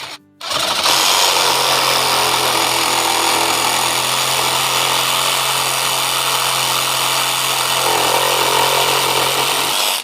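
A Dewalt DCS312N cordless reciprocating saw cutting through wood, a loud steady buzzing rasp running almost unbroken for about ten seconds after a short start, close up.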